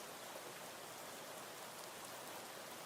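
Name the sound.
rain ambience in video game Arena Breakout Infinite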